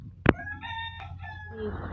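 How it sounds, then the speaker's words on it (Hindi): A rooster crows close by, a brief cock-a-doodle-doo rising after a sharp knock, with faint clucking from chickens and background hum. "और मरियम के बाबा मुर्गियों के लिए रोटी चूर रहे हैं, डाल भी दिए मुर्गियों को"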